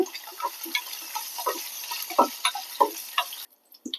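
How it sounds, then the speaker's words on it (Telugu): Cashews, raisins and coconut pieces frying in a pan, giving soft crackling sizzle with irregular pops and a few stirring scrapes, close and moderately quiet, cutting off near the end. "జీడిపప్పులు కిస్మిస్లు కొబ్బరి ముక్కలు వేయించుకున్నాను"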